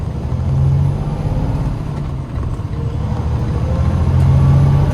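A truck towing a trailer pulls out of mud, its loud engine rumbling steadily up close and rising slightly as it strains free.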